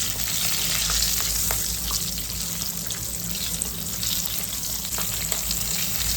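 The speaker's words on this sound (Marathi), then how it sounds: "मिरच्या ॲड करूया. चांगलं परतून घेऊ." Chillies sizzle steadily in hot oil in a pan for matar paneer, a continuous loud frying hiss with occasional stirring scrapes, close and without talk.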